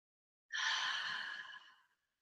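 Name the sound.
deep inhales and exhales during breathing practice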